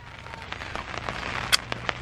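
Rain falls on a farm, heard as a steady soft patter with scattered sharper drop hits and a faint low hum underneath.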